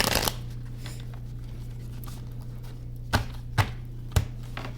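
A quick riffle of cards at the start, then a few soft taps and shuffles over a low steady hum, close and fairly quiet.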